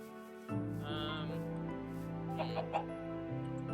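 Chickens cluck in a Minecraft game world, a run of short clucks and squawks over a steady background drone for a few seconds.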